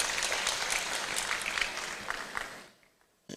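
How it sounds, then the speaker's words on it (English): Applause for the king fills a ceremony at Manhyia Palace marking the Supreme Court's 150th anniversary, a dense, steady clapping that swells, then fades out near the end, leaving a brief quiet and one last sharp burst. "A round of applause for His Royal Majesty."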